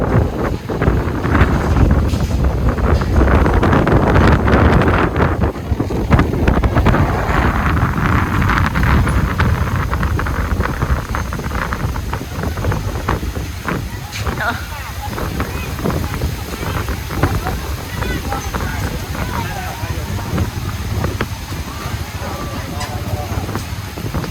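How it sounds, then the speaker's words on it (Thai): Strong wind roars against the microphone with heavy rain during a sudden storm at a boat race, a loud continuous rush that eases slightly later, with voices speaking over it. "ทั้งลมทั้งฝนเลยเนาะ"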